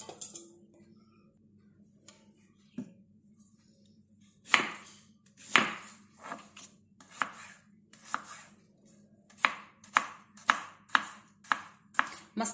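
A knife chops radish leaves on a board in a home kitchen, sharp close strokes that start sparse and speed into a steady rhythmic run, over a low hum.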